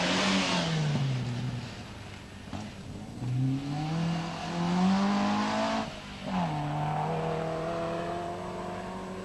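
A Triumph TR7 V8 rally car roars and revs hard on a rally stage, its engine note climbing and dropping through several gear changes as it passes close by, loud and continuous with no voices over it.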